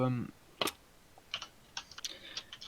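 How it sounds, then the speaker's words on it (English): A voice ends at the start, then sparse keyboard taps and clicks follow at irregular intervals, quiet and close. "We can hear Yo. your keyboard."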